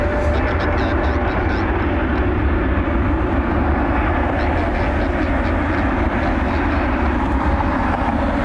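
An Airbus A321neo jet at Cleveland Hopkins airport gives off a steady, loud broadband engine roar that holds without a break, with a faint voice talking underneath.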